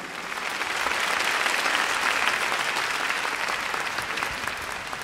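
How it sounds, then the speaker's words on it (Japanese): A dense, even wash of applause from a singing festival audience in Saga Prefecture, Japan, welcoming a guest singer on stage, loud and sustained throughout with no voices. "どうぞ拍手を持ってお迎えください。"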